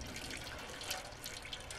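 A cat laps water in the video game Stray, a continuous wet splashing, trickling sound like running water, steady and close with no talk.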